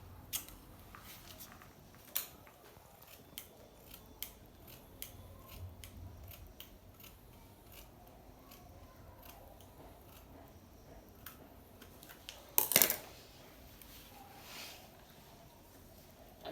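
Scissors snip through fabric while trimming a cowl kaftan, a series of quiet, sparse cuts with one louder, closer snip near the end and no talking.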